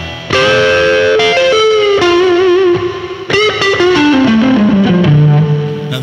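An electric guitar rings through an Azor reverb pedal, loud sustained distorted notes and chords sliding downward with a lush washy tail, played alone with no voices.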